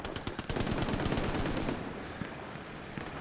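Rapid automatic gunfire rattles in a dense burst from a World War II shooter game, loud and close for under two seconds before fading into lingering echoes and background battle noise.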